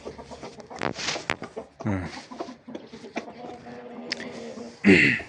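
A young rooster offered for sale crows among clucks and scattered farmyard noises, with one loud, strained crow near the end and voices heard nearby.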